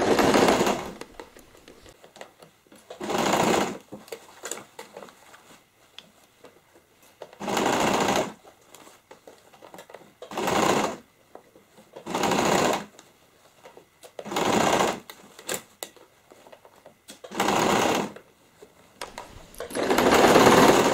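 A sewing machine stitching pleated denim fabric for a recycled jeans handbag, running in steady, loud bursts of one to two seconds, about eight of them, with quieter handling noise between.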